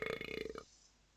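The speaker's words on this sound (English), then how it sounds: "Fart noises and burp noises." Comical burp from the PSP racing game Crash Tag Team Racing, a short throaty rattling belch of rapid pulses lasting about half a second, then cutting off into quiet.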